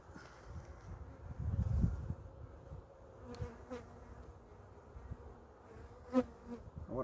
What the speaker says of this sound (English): Loaded with bees.